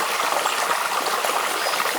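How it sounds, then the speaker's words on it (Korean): Forest stream near a campsite in summer heat, water trickling and babbling steadily and up close, a continuous bright rushing with no voices. "쫄쫄쫄 흐르는 물소리"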